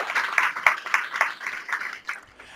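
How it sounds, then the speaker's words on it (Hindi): Church congregation clapping in a burst of applause at a Christian service, a dense patter of many hands that swells and then tapers off over a few seconds. "खुदा यीशु के लिए जोरदार तालियां"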